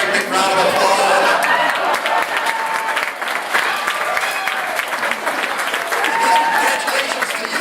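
Audience applause rising after a hypnosis stage show, steady dense clapping sustained throughout with a crowd murmuring underneath and a voice speaking over it.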